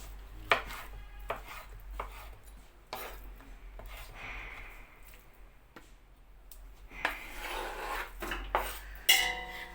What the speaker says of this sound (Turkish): Hepsini doğrayalım arkadaşlar.